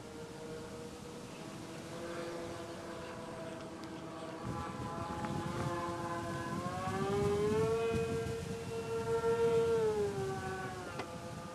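A Hercules model airplane flies high over a mountain at about third throttle, its engine a sustained droning whine that rises and shifts pitch as it turns, steady and fairly loud throughout.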